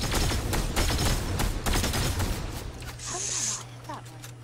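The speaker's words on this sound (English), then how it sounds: "Finally, about time I can shoot somebody." Rapid burst-weapon gunfire in the Fortnite video game, a dense run of sharp repeated shots during the first half followed by quieter game effects, with a voice talking over the action.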